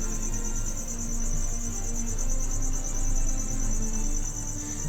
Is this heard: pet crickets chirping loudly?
yes